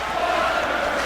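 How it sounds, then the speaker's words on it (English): Wrestling crowd at an HCL event, a steady, dense roar of voices cheering continuously throughout, loud and close with no breaks. "And this crowd really getting into this one."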